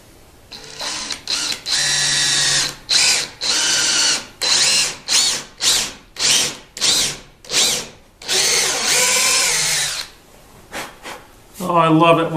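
Power drill driving small set screws into black walnut wood braces, loud and close in repeated bursts of whirring, some long and some short and choppy, with a brief voice at the end.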